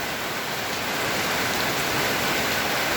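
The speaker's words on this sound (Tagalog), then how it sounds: "Napakalakas ng ulan." Heavy rain pouring steadily, a loud continuous hiss of water hitting surfaces with no pauses.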